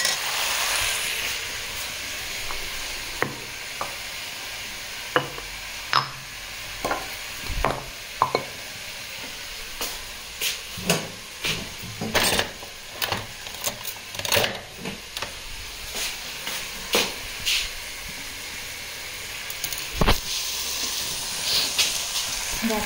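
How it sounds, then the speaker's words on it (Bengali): Meat braising in gravy with onions and dry spices in a pan gives off a soft constant sizzle and hiss, with irregular scraping and clinking spoon strokes as it is stirred. "আমার মাংসটা তো এখানে কষা হচ্ছিল"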